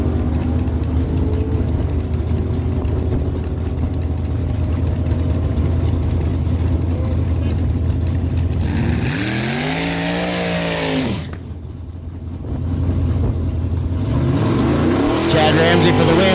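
A 1994 Pontiac Firebird and a 1970 Chevy Camaro drag racing at Miramichi Dragway, loud engine roar with rising revving sweeps as the cars launch, then a brief drop and a renewed engine surge.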